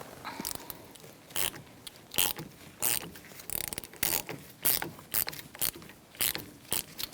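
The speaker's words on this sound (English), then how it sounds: "Using a 10mm socket, make sure it breaks free for when we close down or compress the caliper pistons." A 10mm socket wrench working a brake caliper bleeder screw on a 2005-2010 Chrysler 300, giving a series of sharp, close ratcheting clicks in short irregular bursts with brief pauses between them.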